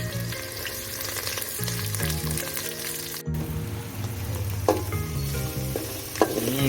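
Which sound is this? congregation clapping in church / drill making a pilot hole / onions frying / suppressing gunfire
onions frying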